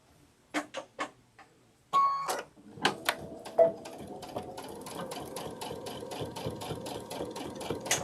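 Domestic sewing machine stitching a sunflower wall hanging, with a few short separate bursts at first, then a steady run of close, fast, rhythmic needle clatter.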